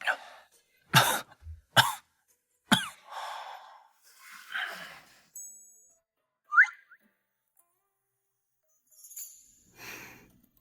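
A man coughing repeatedly after falling into water, several sharp harsh bursts close by with wheezy breaths and throat sounds between them, in an otherwise quiet room with brief speech.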